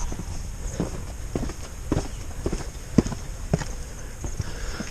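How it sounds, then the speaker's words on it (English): Footsteps going down stairs into an underground coastal gun bunker: steady, fairly quiet hard-soled steps at a walking pace, each a short knock with a slight echo, no talk. "Let's walk down the stairs here into the bunker."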